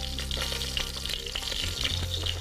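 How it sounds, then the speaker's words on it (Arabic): Lamb shank pieces fry and caramelize in a hot pot for an okra tagine, giving a steady, close sizzle and crackle with a few brief scraping stirs and no talking. "السمع الصوت ده معناها ان حته اللحمه بتتكرمل وبتاخد لون"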